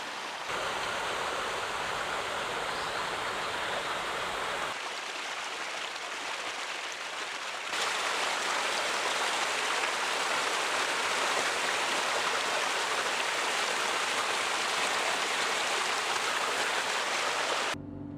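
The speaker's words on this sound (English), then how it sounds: "There's even some running water." Running water of a mountain stream in lush forest on Mount Olympus, Greece, rushes steadily and loudly as a dense, even hiss throughout, with one quieter stretch in the middle and no voices.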